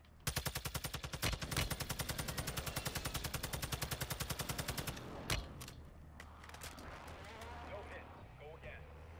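Rapid automatic gunfire and a heavy airstrike blast in the shooter game Warzone 2, with a long steady burst of shots, one sharp explosion, then scattered distant impacts and battlefield noise.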